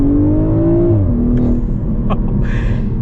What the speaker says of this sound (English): Now I got the top up, so we'll get another little acceleration here.